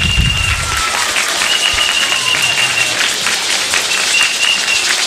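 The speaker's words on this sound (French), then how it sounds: "Alors applaudissez si vous êtes là." A school group at a Senegalese television show claps together, steady applause from a crowd filling the room with a brief low voice at the start.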